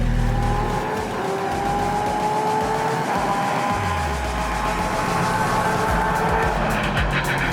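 A race car on a time attack lap at the World Time Attack Challenge, engine roaring steadily at full throttle with a brief tire squeal, mostly alone and fairly close.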